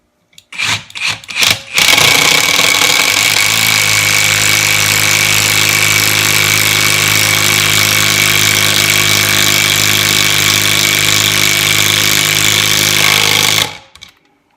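Kimo 20V brushless impact driver with a Warrior adapter drives a medium socket: a few short bursts, then loud, close, continuous hammering for about twelve seconds before it stops.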